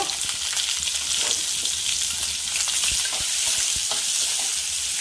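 Onion frying with dried red chillies and curry leaves in hot oil makes a dense, bright sizzle with a few stirring clicks, steady and close throughout, no one speaking.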